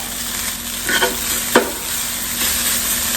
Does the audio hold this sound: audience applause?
no